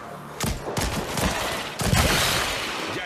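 Rapid bursts of gunfire fill the moment in the VR shooter After The Fall on Meta Quest 3, several loud close shots overlapping in quick succession over a dense game soundscape.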